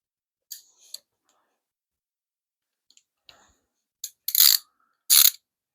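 Sharp clicks from a torque wrench tightening the valve cover bolts on an aluminum-covered 5.7 Hemi in a 1975 Plymouth Duster build. The clicks come in a few separate bursts, close and crisp, with quiet gaps between them.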